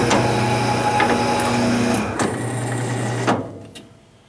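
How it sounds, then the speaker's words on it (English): An EBM 18 PLC electric paper cutter clamps and cuts, a loud motor whine with a humming drive, a sharp transient as the blade comes down, then the machine winding down to quiet. "If you want to clamp and cut, then you hit the cut and clamp button."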